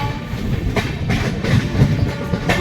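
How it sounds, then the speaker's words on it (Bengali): Howrah-Darbhanga Express rolling on a curve into Jasidih station, a steady near rumble of wheels on rail with faint periodic clatter and no voices. "বিকেল প্রায় 4টের সময় খুব সুন্দর একটা কার্ভ নিয়ে ট্রেন জাসিডি স্টেশন এন্টার"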